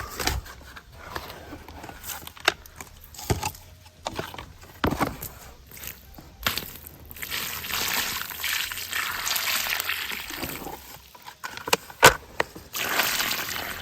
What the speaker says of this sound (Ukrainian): Буду заливати водичкою.